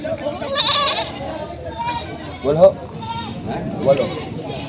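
A pregnant goat, soaked from rain and up for sale, lets out a couple of short bleats amid steady nearby conversation among several people.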